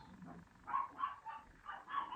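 Several dogs barking outdoors in a quick run of sharp barks, moderately faint and distant, with no talking over them.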